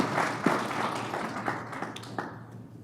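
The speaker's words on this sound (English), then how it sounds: "Yes, and another applause." A conference audience gives brief, scattered applause, a handful of separate claps fading out over a few seconds rather than sustained clapping.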